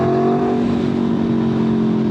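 Aprilia Tuono V4 motorcycle in sport mode with the throttle opened, a loud, steady close-up engine drone holding a constant pitch throughout, with no talk.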